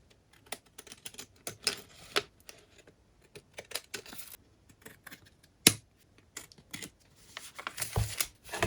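Scissors cut paper for an envelope pocket craft, with scattered crisp snips and rustles in irregular bursts, close and fairly quiet, and a louder cluster near the end.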